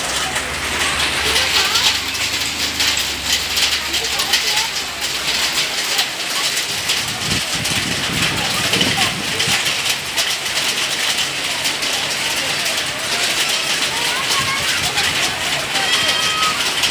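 Hail falls during a storm in Bangalore, a dense, steady rattle and patter that runs throughout, with people talking over it.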